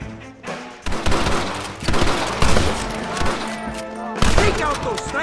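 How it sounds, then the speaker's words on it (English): A Red Dead Redemption shootout: dense bursts of rapid gunfire and heavy overlapping shots, loud and close, coming in waves with short lulls between volleys. "They're coming out! Gun them down!"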